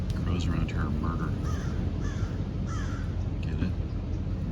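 Crows cawing at a winter campsite in Carpinteria, California, repeated harsh calls rising over steady loud background noise throughout.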